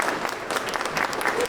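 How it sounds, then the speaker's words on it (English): An audience at a storytelling festival gives a storyteller a short, steady round of clapping that stays dense and even throughout. "Give him a round of applause."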